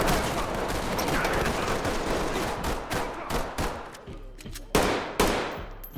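Rapid video game gunfire, dense overlapping shots at first that thin into separate sharp cracks and bursts toward the end.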